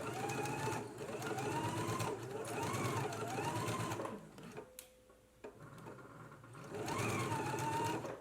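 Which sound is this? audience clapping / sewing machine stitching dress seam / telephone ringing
sewing machine stitching dress seam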